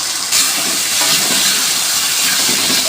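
Pre-fried potatoes tipped into hot oil for an egg and potato curry give a loud, steady sizzle and hiss that swells sharply after a brief pause and holds without letup, no voices.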